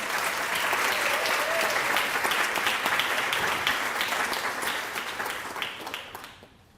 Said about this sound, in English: I'd love it if you give a round of applause for Kendra Faldetta.